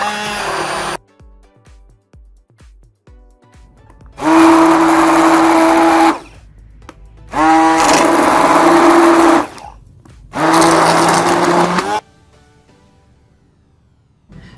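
A blender whirs loudly in three separate bursts while mixing a homemade whitening face wash, each run lasting about two seconds with short quiet gaps between, preceded by a few small clicks.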